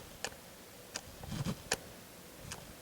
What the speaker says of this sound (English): The Tamron, as I don't have to tell you, is ridiculously loud with its external focusing and OSD motor.